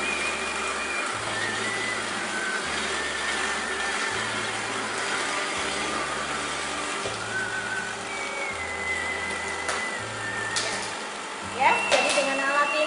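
A soy milk machine grinds soybean pulp mixed with water, giving a steady whirring hum with a pulsing low drone. A person talks over the machine.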